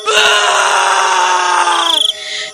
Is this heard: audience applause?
no